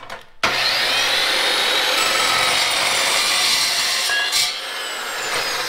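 A hand saw cuts steadily through wood, a continuous close, loud rasping stroke after a brief quiet start, running almost unbroken to the end with only a short dip near the end.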